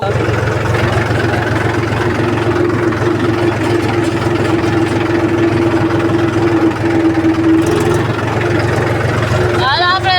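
A Mahindra tractor engine idles loudly and steadily nearby, a low, throbbing drone, with a brief voice near the end.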